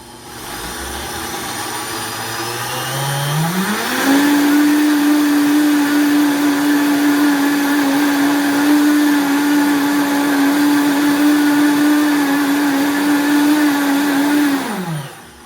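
A blender whirs through a nutritional yeast mixture, ramping up over a few seconds to a steady, loud, high motor whine that holds for about ten seconds before spinning down. No voices are heard.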